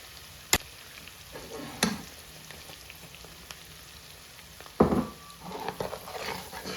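Rice with prawns fries in a pan under a faint, steady sizzle, with a few sharp spoon-scrape clacks and louder stirring bursts breaking in now and then.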